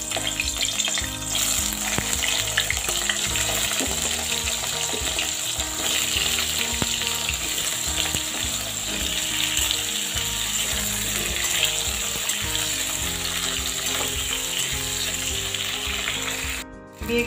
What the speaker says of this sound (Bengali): এবার আমি এই তেলে বেগুন আর মিষ্টি কুমড়োটা ভেজে নেব।